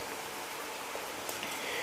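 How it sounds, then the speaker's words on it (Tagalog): Steady rain falls with a constant soft hiss and a few faint drops standing out, fairly quiet and even throughout. "Naulan pa, oh."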